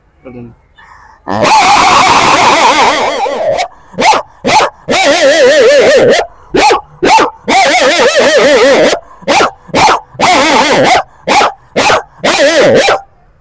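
A man imitates a big German Shepherd's barking: long sustained growling barks alternating with quick bursts of short, loud woofs, close and dry, with no background noise.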